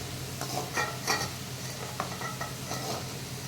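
Garlic sautéing in a pan for a garlic kuzhambu, a close crackling sizzle broken by quick scraping strokes of a spoon stirring, with no one talking.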